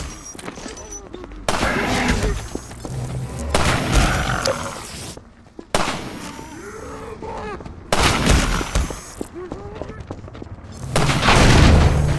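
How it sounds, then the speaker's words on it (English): In Half-Life 2: Episode One, sniper shots strike zombies, with repeated loud gunshot bursts and booms separated by short gaps. A voice talks throughout between and under the shots. "It also gives the player a chance to watch zombies get sniped up close and from various angles."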